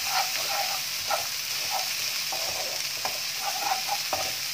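Chili and shrimp-paste sambal sizzles in a pan while it is stirred, a continuous frying hiss broken by soft periodic scraping strokes, close up and with no speech.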